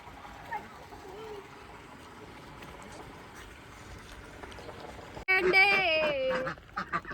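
Ducks quack in a loud burst near the end on a farm in Solapur, Maharashtra, several close calls over a quiet outdoor background with faint voices earlier.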